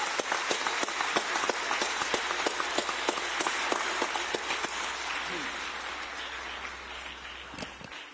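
Delegates at the UN Habitat Assembly in Gigiri, Nairobi, applaud a children's music performance: a sustained round of clapping with crisp individual hand claps standing out, moderately loud and steady for around eight seconds over a low room hum.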